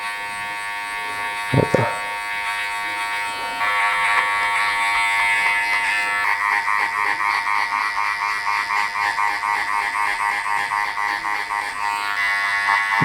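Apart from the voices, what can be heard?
electric hair clipper cutting hair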